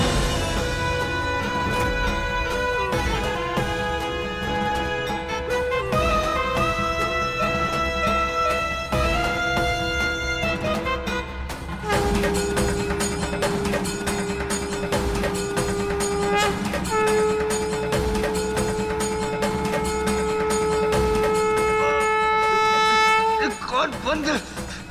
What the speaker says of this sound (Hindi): ये तो लक्ष्मी शंख का स्वर है।